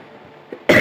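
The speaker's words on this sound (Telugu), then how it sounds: "చూసారా గైస్, దగ్గు కూడా బాగా వస్తుంది." A single short, harsh cough bursts out loud and close at the very end, after a faint throat sound and near quiet.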